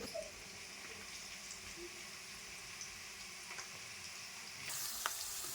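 Bottle gourd pieces, chopped tomato and softened onions sizzle steadily in a pan, with a soft stirring scrape near the end and no talking.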